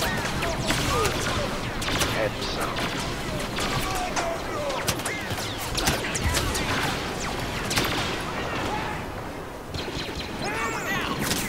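Rapid blaster fire crackles almost continuously in a Star Wars Battlefront hero battle on Hoth, with bursts, impacts and chaotic battle noise layered together and occasional speech mixed in.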